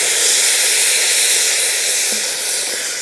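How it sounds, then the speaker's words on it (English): Wine poured into a hot pan for beef ragu hisses and steams loudly and close, a dense, steady rushing sizzle that eases only slightly over a few seconds. "what I want to do is put some wine in that"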